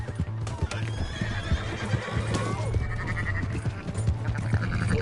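A horse whinnies loudly over rhythmic clip-clopping hooves in Red Dead Redemption 2, with a busy, cluttered background throughout.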